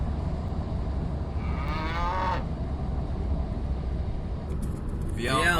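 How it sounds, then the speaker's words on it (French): Cows in Brittany moo twice, one drawn-out call midway and another starting at the end, over a steady low outdoor rumble. "Les vaches sont nos voisines."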